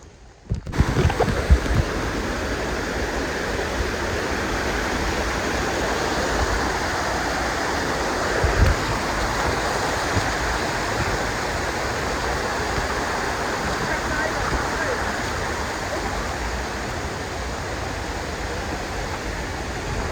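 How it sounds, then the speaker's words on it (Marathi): Monsoon-season roar of Devkund waterfall in Maharashtra, a dense, steady broadband rush of falling water close by that fills the whole stretch, with a few louder bursts at the start. "पुढं वॉटरफॉल."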